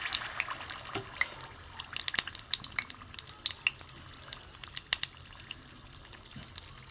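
Pumpkin fritters coated in gram flour batter frying in moderately hot oil give a faint, quiet background hiss dotted with many small, irregular crackling pops and bubbles.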